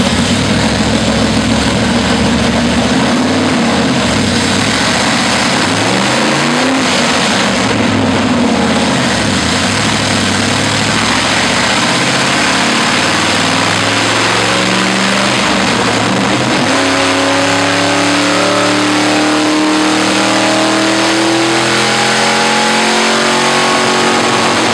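Hot rod engine on a dyno during carburetor tuning, roaring loud and steady for the whole stretch as revs climb and fall in long sweeps, with no talk over it.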